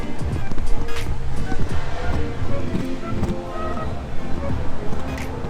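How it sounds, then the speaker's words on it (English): Strong wind buffets the open deck of the Symphony of the Seas cruise ship, a steady, loud, rumbling rush mixed with surf-like wash that carries on throughout. "Really windy today."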